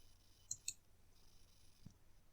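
A computer mouse clicks a few times, two faint close clicks in quick succession and another soft one shortly after, over a quiet background hum.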